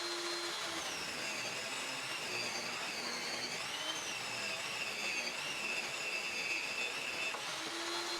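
Table saw ripping wooden bed legs to width for a modern queen bed frame, a steady loud whine of the blade running through the cut for the whole stretch, with no talk.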